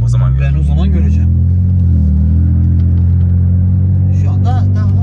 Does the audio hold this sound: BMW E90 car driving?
yes